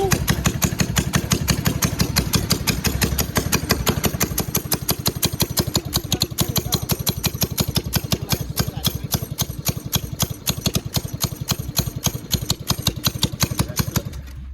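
A Chopper 212 mini bike engine runs loud and close after a pull start, a rapid, steady put-put firing rhythm that holds for the whole stretch with little change in pace.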